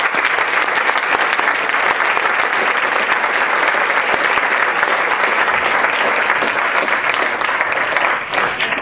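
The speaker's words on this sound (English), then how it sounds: "A warm round of applause for Brett." An audience at an entrepreneurs' talk applauds with loud, continuous clapping close by, holding steady almost to the end before thinning slightly.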